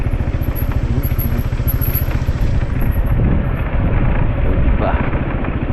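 A motorcycle engine drones loud and close throughout a ride, its steady pulsing rumble mixed with wind buffeting the microphone while riders talk over it.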